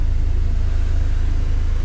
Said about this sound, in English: I know you can hear it bog the engine down a bit